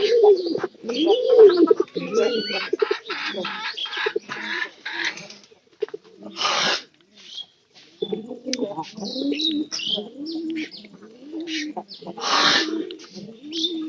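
Pigeons in a loft coo in soft, repeated low phrases mixed with chirps and wing flutters, moderately close and continuous.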